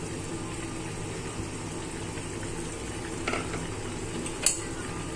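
Hilsa fish heads go into a pan of Malabar spinach, giving a soft, steady sizzle and simmer with a faint scrape and one brief metallic clink of utensils near the end.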